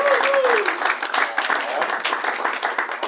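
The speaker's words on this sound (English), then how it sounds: "give a huge round of applause to our panelists for donating their wisdom today." Audience applause for the panelists at a photography industry panel event, a sustained round of clapping, with a voice speaking over the start.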